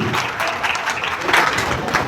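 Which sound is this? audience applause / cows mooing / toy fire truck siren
audience applause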